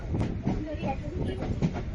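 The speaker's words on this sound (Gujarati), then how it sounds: "રામ દેવડા થી ટ્રેન હાલવા મળી છે" A moving train leaving Ramdevra rumbles with rhythmic rattling and clatter, heard from inside, with faint voices mixed in.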